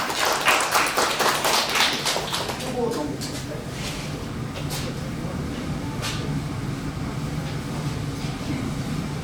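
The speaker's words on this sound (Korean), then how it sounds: "박수 한번 해주십시오." Applause from residents at a street housing redevelopment briefing in Simgokbon-dong, a burst of clapping that thins to scattered claps while a voice speaks over a hall murmur.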